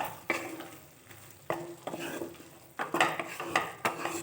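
Prawn bhorta stirred in mustard oil in a pan: bursts of sizzling and scraping come in several separate strokes, with metal utensil clinks against the pan, fairly close and moderate in level, and no speech.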